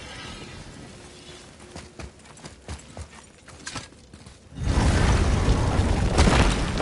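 Horse hooves in the God of War video game, starting as sparse soft clip-clops and low thuds, then a dense steady rumble of movement takes over for the last couple of seconds.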